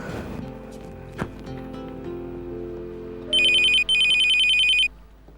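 Indoor household sounds and a soft thump give way to an electronic telephone ring in two bursts, the second longer, trilling steadily and fairly loud against quiet room tone.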